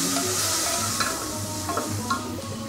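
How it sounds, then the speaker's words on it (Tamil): Chopped onion with ginger-garlic paste fries in hot oil for a Chettinad mutton ribs masala, a soft continuous sizzle broken by a few scraping strokes of a spoon stirring in the pan. "கொஞ்சம் ஆனியன் நல்லா குக் பண்ணிவிட்டு அதன் பிறகு நம்ம இஞ்சி பூண்டு பேஸ்ட்"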